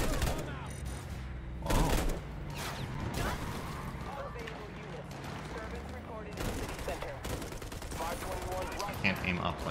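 Bursts of automatic gunfire in Cyberpunk 2077, irregular volleys and scattered shots with mechanical clatter, a loud impact near the two-second mark, while a person talks briefly over the action.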